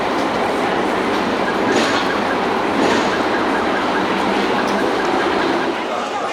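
A Hong Kong double-decker tram rumbles past on a city street very close by. Its loud, steady roar of wheels and motor fills the whole stretch, with faint clatter on top.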